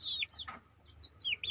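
A young chicken chick in a simple breeding coop gives several high, thin peeps and chirps close by, coming in short bursts with quieter pauses between them.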